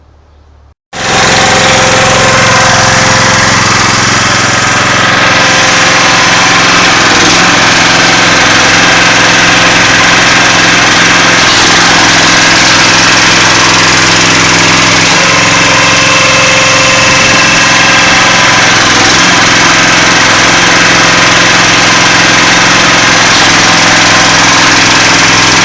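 A New Zealand-designed log splitter's engine starts and runs loud and steady through a splitting cycle, a continuous close-up drone with faint shifts in load and no talking.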